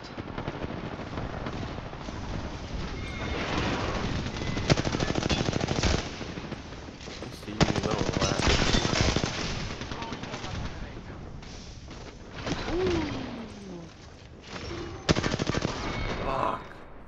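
Loud automatic gunfire from the video game Apex Legends rattles in long, rapid bursts over many seconds, punctuated by sharp single cracks and brief lulls between volleys.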